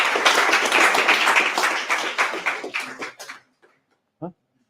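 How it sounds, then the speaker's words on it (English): An audience at a tech demo night in Cornwall applauds, a dense roar of clapping that thins into scattered claps and fades out, with a single short clap or tap after a pause. "Great, big round of applause, everyone."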